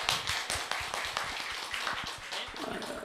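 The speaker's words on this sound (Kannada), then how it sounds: "ಒಂದು ದೊಡ್ಡ ಚಪ್ಪಾಳೆ ಕೊಡಿ ಫಸ್ಟು" An audience at a live quiz show applauds, a dense run of overlapping hand claps at moderate distance that carries on steadily for a few seconds.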